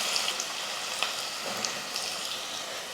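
Onion frying in hot oil with fenugreek seeds for a South Indian kara kulambu, a steady, fairly soft hiss with faint crackles and no talking.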